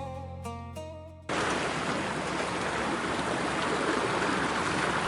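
Sea waves wash onto a shore in a steady, loud broadband rush that cuts in abruptly after a short stretch of soft music and then continues unbroken.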